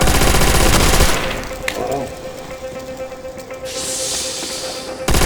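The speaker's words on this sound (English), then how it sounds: "the trick with the ray gun is not to shoot them too close" Ray gun fire in Call of Duty: World at War Zombies, a loud burst of rapid energy shots and blasts that fades into a hissing, rumbling game soundscape, with a second burst at the end.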